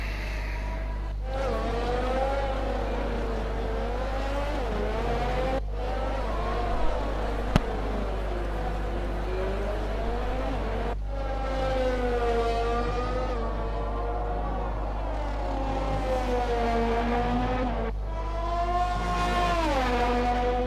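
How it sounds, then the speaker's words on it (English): Formula 1 race cars in the F1 20 video game at the Mexican Grand Prix, their high-pitched engines whining up and down through repeated gear changes, steady and continuous with no talk. "I just love listening to the sounds of the Formula 1 cars"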